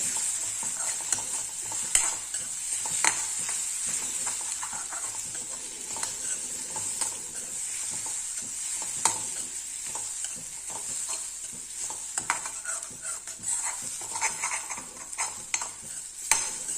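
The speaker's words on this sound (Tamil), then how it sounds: "நல்லா சிம்மில் வச்சுட்டு நல்லா கிளறி விட்டுருங்க." Steady sizzling of greens frying on low heat in a heavy-bottomed pan, with frequent scraping and clinking as they are stirred, continuous and close.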